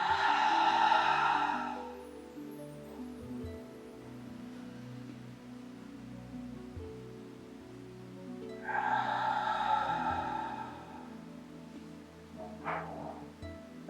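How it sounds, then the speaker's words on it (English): Two deep breaths exhaled audibly through the mouth at the close of a yoga practice, each a soft, fairly close whoosh lasting a couple of seconds, separated by a quiet stretch with a brief sniff near the end. "inhale in as you exhale"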